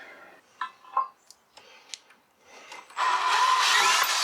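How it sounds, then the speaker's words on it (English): A loud, steady power drill whirs continuously for the last second or so, drilling out a bolt during a sway bar replacement on a Porsche 911 (996), preceded by scattered clicks and handling noises. "I might have to just drill it out. Drill it and tap it."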